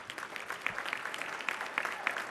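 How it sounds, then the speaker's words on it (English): Steady applause from an audience at the Women's Bar Association of Illinois installation ceremony, a dense wash of many hands clapping at close range with no break. "I'd like you to please give her a big round of applause"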